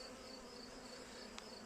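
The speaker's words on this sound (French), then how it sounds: "on peut entendre que les abeilles font un bruit plutôt" A queenless honeybee colony hums loudly and steadily with wing noise, a dense, continuous close-up buzz that stays even for the whole moment without any voices.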